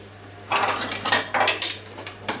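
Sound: pans and cutlery clattering while cooking

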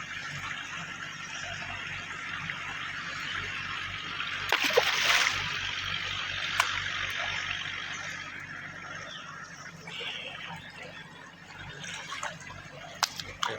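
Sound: water of the Gad river at Kumbharkhani

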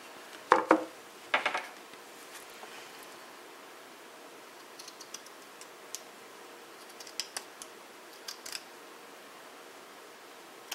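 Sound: cutting up material for a shadow frame

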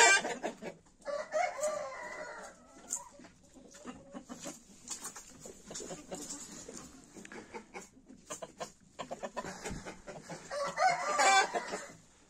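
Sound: roosters crowing and clucking

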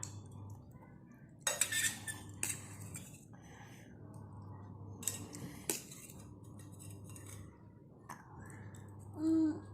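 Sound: child eating Maggi noodles with fork and spoon

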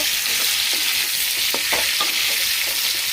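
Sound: boiled potatoes frying in oil

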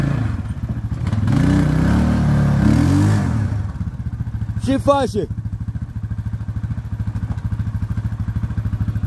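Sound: ATV (four-wheeler) arriving, engine running

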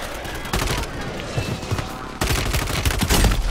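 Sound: enemy gunfire in a video game

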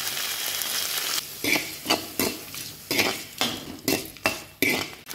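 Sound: tomatoes and garlic being sautéed in a pan

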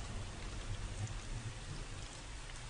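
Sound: sound effect of sudden rain shower in horror radio drama

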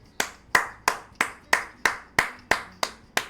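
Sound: applause

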